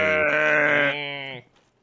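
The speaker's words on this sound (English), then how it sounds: "I love the little moo they make. Little death moo." A slain creature in Dark Souls lets out a short, bleating moo-like death cry, loud and close, falling away after about a second and a half.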